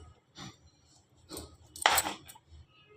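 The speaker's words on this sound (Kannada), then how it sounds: "ಈಗ ಈ ಬೆಟ್ಟದ ನೆಲ್ಲಿಕಾಯಿನ ಸಣ್ಣ ಸಣ್ಣದಾಗಿ ಕಟ್ ಮಾಡ್ಕೊಳ್ಳೋಣ." A knife cuts amla (Indian gooseberry) for chutney in a quiet kitchen: a few crisp, separate chops, with one sharper, louder strike in the middle.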